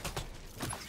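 Weapon reload in the tactical shooter Valorant: a quick run of mechanical clicks and creaks, two clusters of metallic clacks close up, with no talking.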